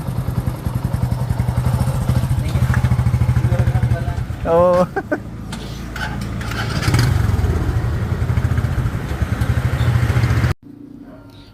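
A Bajaj CT125 motorcycle engine idles close by with a rapid, rough knocking pulse, briefly interrupted by clattering and short voices, then cuts off abruptly.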